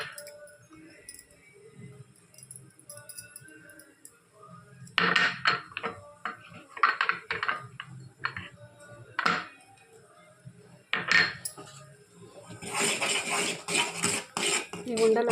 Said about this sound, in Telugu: ఇప్పుడు మనం ఈ పిండి అంతా మొత్తం వేసేసుకొని కలిపేసుకోవాలి.